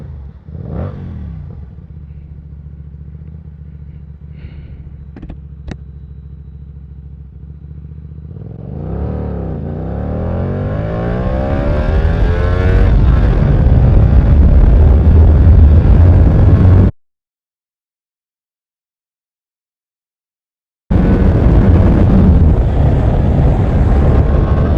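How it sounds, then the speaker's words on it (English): Hyosung GT250R motorcycle pulling away and accelerating hard, engine pitch climbing through the gears with loud wind roar, a few seconds of silence, then the engine and wind roar return. "let's do an acceleration test of the GT250R"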